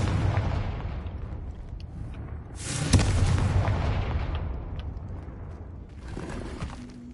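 A Confringo fire spell detonates in Hogwarts Legacy with a sharp, loud blast that rolls into a burning rumble, set against a steady low game ambience that swells again near the end.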